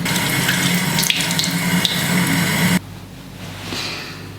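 Tap water pouring loudly into a bathroom sink while someone washes their face, a close steady rush that cuts off sharply near 2.8 seconds, then faint dripping and a quiet room follow.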